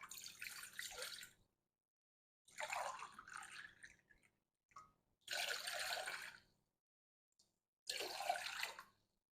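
Water pours into a pot for rum baba syrup in four separate pours, each a splashing stream lasting one to two seconds, with quiet gaps between them and no talk.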